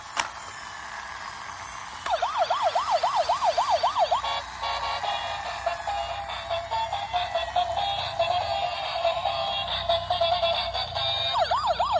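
A toy police bike gives off an electronic wailing siren that warbles rapidly up and down, starting abruptly after a quiet moment and continuing loud and near alongside a steady tone and clicks.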